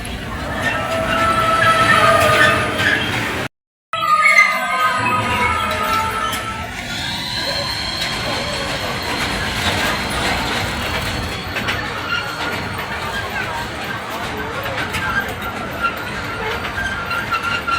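A small amusement park ride train clatters and rumbles steadily on its track, with a brief dropout early on and faint mechanical squeals; voices murmur in the background.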